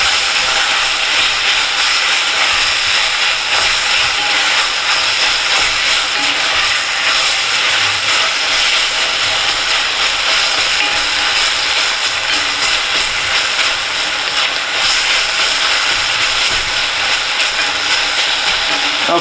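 Half cup of onion frying over high heat, a loud, steady, close sizzle with constant broadband hiss and no breaks.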